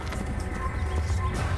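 Horse hooves clip-clop at a steady walking pace in the Assassin's Creed video game. The hoofbeats sit under a constant low game ambience, and no one speaks.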